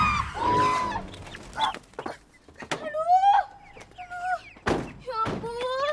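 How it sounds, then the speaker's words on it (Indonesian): Chickens clucking and squawking at close range in uneven bursts, mixed with knocks and thumps of movement, loud throughout with a few quiet gaps. "Ayam siapa sih ini?"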